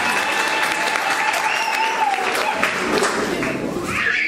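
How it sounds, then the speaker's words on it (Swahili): An audience applauds a child at a launch event, a sustained burst of dense clapping from a crowd that carries on steadily from start to end. "Supigia mtoto wa mama makofi yake."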